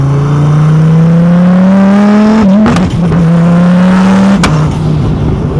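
A car engine revs hard under acceleration in second gear, a loud steady drone that climbs in pitch, breaks briefly at a shift or lift, then builds again.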